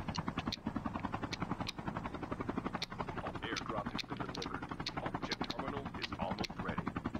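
A helicopter in the mobile shooter game Call of Duty Mobile keeps up a rapid, even rotor chop for several seconds, loud and continuous, while players talk over it.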